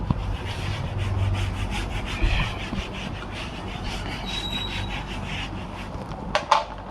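A duster rubs writing off a classroom board during a lecture, making steady, loud, continuous scraping strokes for several seconds, ending with a few sharper swipes.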